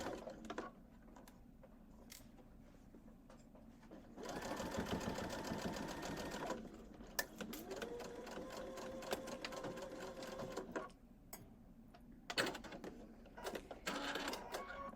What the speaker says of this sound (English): and then I will sew forward